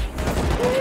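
Dense gunfire in the Rust video game during a launch site raid, a continuous loud rattle of shots with rockets and grenades in play, filling the whole short moment.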